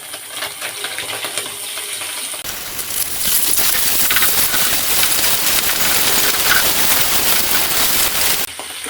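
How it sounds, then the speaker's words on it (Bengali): Chapila fish frying in hot oil in a pan as the pieces are flipped, a steady loud sizzle that swells and crackles through most of the stretch after a quieter start. "বন্ধুরা, চাপিলা মাছ এখন আমি উল্টিয়ে নেব।"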